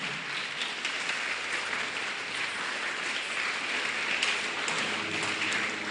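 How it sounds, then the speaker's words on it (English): Audience applause at a scholarship award ceremony for an education official, steady dense clapping filling the whole stretch at an even level, with no pauses and no voices standing out. "You keep on clapping until they come."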